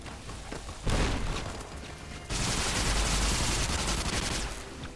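Rapid pistol gunfire in the Fallout: New Vegas game, loud sustained bursts of shots with a brief lull between two volleys, no talk.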